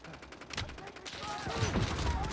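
Rapid bursts of automatic gunfire crackle in Call of Duty: Modern Warfare gameplay, a dense, loud fusillade of overlapping shots with battle chatter mixed in.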